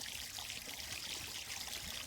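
Water rushes steadily through a pipe high in the mountains, a continuous, even hiss of flow with no pauses.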